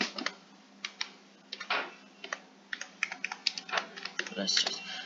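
Computer keyboard typing in a close, quiet room, irregular bursts of crisp key clicks with short pauses, ending in a faster flurry of taps.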